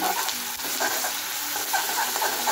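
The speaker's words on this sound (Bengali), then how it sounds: "আদা রসুনের পেস্ট দেবো সামান্য পরিমাণে, একটু ভাজতে থাকবো।" Ginger garlic paste frying in oil for chilli chicken, a steady close sizzle throughout with stirring clinks and scrapes running under it, no voices.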